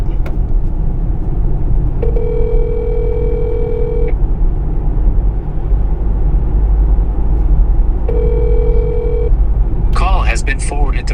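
An unanswered telephone call gives two long ringback tones over a steady car-interior rumble, followed by an automated voice.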